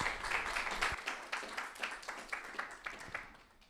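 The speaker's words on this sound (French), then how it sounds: "vous pouvez l'applaudir" An audience at an esports round-table event applauds: faint, fairly quiet clapping with distinct individual claps that gradually thin out.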